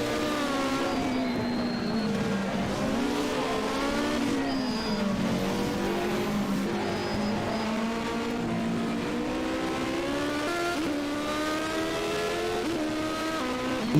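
A hill climb race car driven by Marcus Blasso at the European Hill Climb Championship roars steadily and loudly throughout, its engine note rising and falling through gear changes, with no talk over it.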